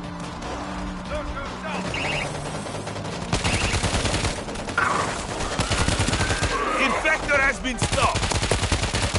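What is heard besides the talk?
auto turret gunfire in video game World War Z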